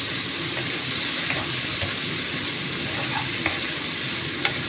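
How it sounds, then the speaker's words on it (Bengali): Potato and prawn curry frying in mustard oil while it is stirred and turned keeps up a continuous close sizzle, with a few light utensil clicks and scrapes. "এপিট ওপিট ভাজা সেই রকম একটু নেড়ে নেব"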